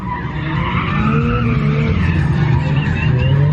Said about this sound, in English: The drifting has started.